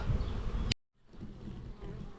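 Honey bees buzz around frames of a hive body packed with brood, pollen and eggs. The dense, steady hum drops out briefly before resuming at a slightly lower level.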